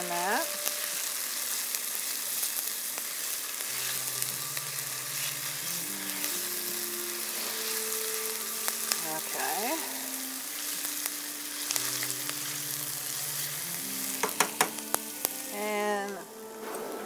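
A spicy Asian vegetarian vegetable medley fries in a pan with a steady, dense sizzle throughout, occasional stirring clinks, and one brief spoken word.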